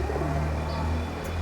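Bombay pigeons cooing in a loft, a low, steady murmur of coos running continuously and close by, with no voices over it.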